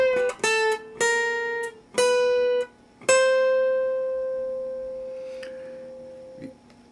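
Lead guitar intro lick, a few plucked notes followed by a long sustained note that fades slowly, clean and close with no talking.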